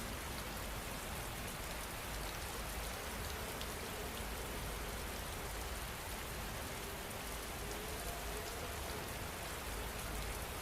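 Steady rain falls across the whole stretch, a dense, even hiss of drops on a surface with no pauses or talk, close and continuous in the way of a relaxing sleep soundtrack.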